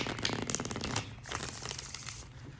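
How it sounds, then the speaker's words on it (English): Crinkly rustling bursts of tarot cards being shuffled, close and fairly quiet, with a brief pause partway through before the papery riffling resumes. "So I'm going to just shuffle a little bit more."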